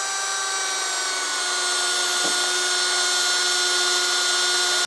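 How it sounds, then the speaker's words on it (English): A drill whines steadily at high pitch, boring a pilot hole into metal lubricated with cutting fluid, with a continuous grinding tone, close and loud, then stops abruptly. "I've got that pilot hole drilled"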